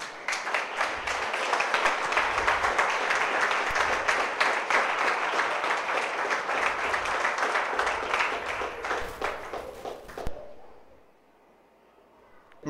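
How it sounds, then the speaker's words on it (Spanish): A church congregation claps together in sustained applause for about ten seconds, steady and full, then fades out into near silence. "Denle un aplauso al Señor por eso."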